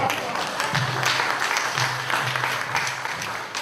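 A crowd at a donor appreciation ceremony claps again in sustained applause, a thick continuous patter with a few louder bursts and faint voices murmuring underneath.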